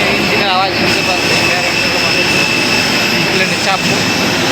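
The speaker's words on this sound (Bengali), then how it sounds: "ইঞ্জিনের আওয়াজ শুনতে পাচ্ছি" An airliner's jet engine runs at an airport, a loud, steady roar with a high whine above it, heard from the tarmac while passengers board by bus; faint voices come through briefly.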